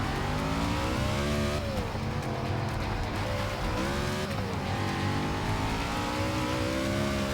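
A NASCAR race car engine in Forza 6, with driveline and damage settings changed, roars loud and continuous, its pitch rising and dipping through gear changes and throttle swings, with a faint tire squeal.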